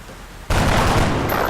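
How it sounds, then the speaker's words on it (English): A sudden, loud volley of gunfire from soldiers in XCOM: Enemy Within breaks out of near silence and continues as sustained automatic fire. "Weapons free. Get ready to fire."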